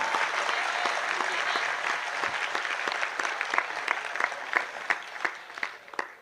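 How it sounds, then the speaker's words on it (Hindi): Audience applause at a Hindi poetry recital: a dense, sustained burst of many hands clapping that gradually thins into louder, scattered individual claps toward the end. "या थोड़ी ढंग से ताली बजा दो एक बार"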